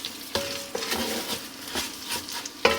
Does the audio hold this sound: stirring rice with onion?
yes